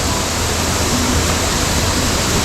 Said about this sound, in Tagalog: papakita ko sa inyo ng malapitan itong falls